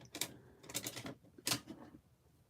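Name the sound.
rubber stamp stamping onto cards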